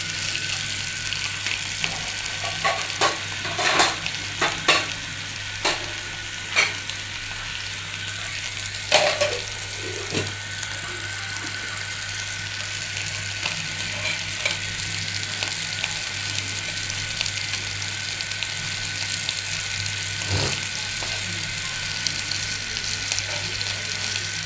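Food frying in a pan and being turned until crisp, with a steady close sizzle and scattered stirring and scraping clicks throughout; no voices.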